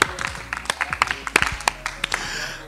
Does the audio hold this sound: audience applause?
yes